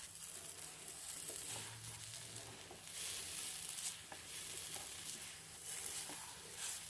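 A green gram samosa filling fries in oil, a faint, steady sizzle and crackle with soft stirring scrapes, heard alone and close.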